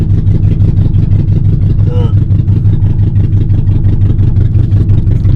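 An old car's engine drones loudly and steadily as the car pulls off and drives on the road, with a brief higher whine partway through.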